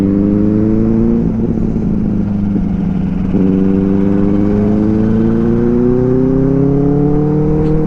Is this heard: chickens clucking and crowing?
no